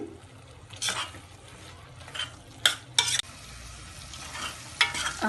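Onion, ginger and garlic frying in a pan for a raw mango prawn curry: a steady sizzle broken by several bursts of stirring and spatula scraping, close and moderately loud.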